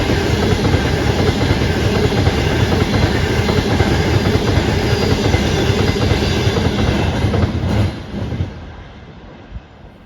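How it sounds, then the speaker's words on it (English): A Pendolino train roars loudly through Stone railway station, a steady broadband rumble with wheel clatter for about eight seconds before cutting off abruptly and fading into quieter background noise. "that means I know there's going to be a Pendolino"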